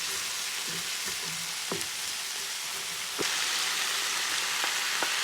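Bean sprouts hiss and sizzle in a hot wok stir fry with onions and celery, a steady loud frying crackle with a few clinks and stirring knocks, rising slightly as more food hits the pan.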